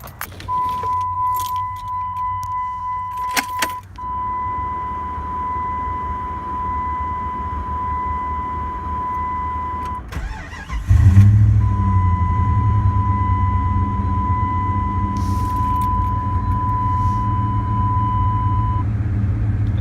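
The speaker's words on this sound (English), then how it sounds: "So I'm gonna go start it and see if that engine light went away." Keys jangle in the ignition of a Jeep with a P0441 fault code while a steady warning chime sounds, then the engine cranks and catches, settling into a loud, even idle nearby with the chime resuming.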